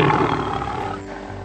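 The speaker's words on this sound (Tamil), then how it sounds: "சிங்கமும் அந்த நொண்டி குதிரைய பார்த்து உருமியது." A lion growls and roars in a cartoon animal fable, a loud, sustained rumbling snarl that fades slightly toward the end.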